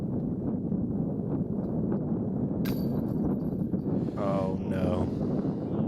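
Wind buffets the microphone on a disc golf course, a low rumbling gust that runs steadily throughout while a brief exclamation and some chatter from the players cut through near the end.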